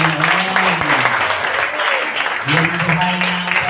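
Congregation clapping in praise during a Filipino church worship service, steady clapping under a preacher's loud voice and singing.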